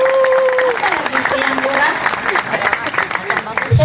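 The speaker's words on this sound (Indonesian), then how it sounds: "Tepuk tangan untuk beliau." An audience at a company fast-breaking gathering breaks into applause, a dense burst of clapping that runs throughout while a person talks over it.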